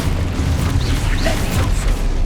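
A Confringo explosive spell going off in the Hogwarts Legacy video game, a deep, rumbling boom with crackling bursts layered over a steady, dense low roar, loud and close.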